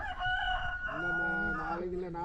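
At a lone farmhouse set among cashew trees, a rooster crows loudly and close by in one drawn-out call while chickens cluck in the background.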